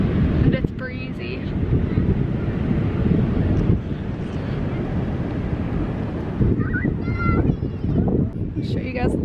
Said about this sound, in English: And it's breezy.